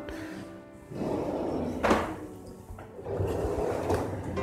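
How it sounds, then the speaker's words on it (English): A small thin drawer in a high-gloss acrylic modular kitchen slides open and shut, with soft rumbling glides and a couple of light knocks, fairly quiet and with no talking. "We have a drawer, a small thin one."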